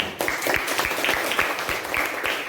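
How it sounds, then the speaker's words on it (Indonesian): A class of children claps hands together in a school classroom, producing a quick, even run of rhythmic claps that lasts a couple of seconds. "Ya, tepuk tangan."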